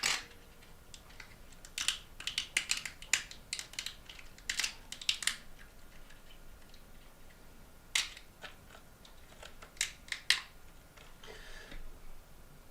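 Hobby snips cut parts off a plastic model kit sprue, giving a series of sharp, close clicks and snaps at irregular intervals against a quiet background.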